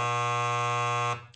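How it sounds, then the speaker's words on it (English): A game show buzzer on a sports radio quiz blares one loud, steady electronic tone for about a second before cutting off abruptly. "Hit the buzzer."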